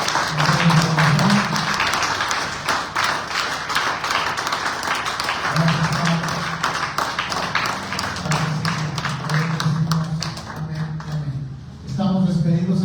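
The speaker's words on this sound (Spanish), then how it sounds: "Den un aplauso a Dios, por favor" A church congregation at a worship service claps in a steady, crisp rhythm while voices and a sustained tonal hum carry on beneath, the clapping thinning out toward the end.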